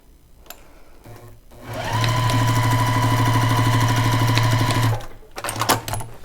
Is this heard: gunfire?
no